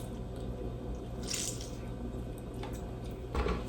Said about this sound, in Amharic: አንድ ሎሚ እንደዚህ ጨምቃለሁ